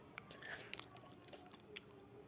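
Close, wet smacking and chewing during a meal, with soft crunchy clicks and lip smacks in an irregular rhythm, fairly faint, and no talk.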